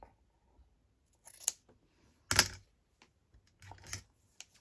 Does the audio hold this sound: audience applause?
no